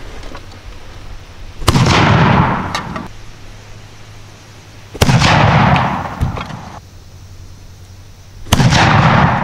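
Three loud booming shots ring out from a 15th-century handgonne fired from a war wagon, each blast sharp and close with a rumbling tail, spaced a few seconds apart outdoors.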